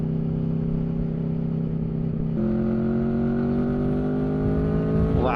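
A 2021 Aprilia Tuono 1100 Factory motorcycle pulls hard under acceleration, its engine note climbing steadily in pitch with a brief gear change partway through, loud and continuous close to the rider.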